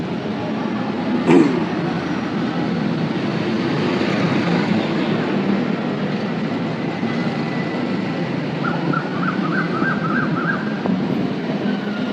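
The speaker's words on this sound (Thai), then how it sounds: "ถึงแล้วรถไฟใต้ดิน" A Bangkok MRT subway train rumbles loudly into the station with a steady roar, a sharp squeal near the start and a brief chiming tone toward the end.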